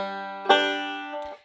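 A Scruggs-style banjo hammer-on lick rings out close and alone: a strong plucked strum whose tones sustain, then a softer second note near the end before a quick damp.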